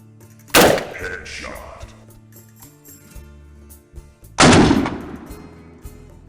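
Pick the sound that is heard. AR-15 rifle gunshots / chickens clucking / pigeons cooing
AR-15 rifle gunshots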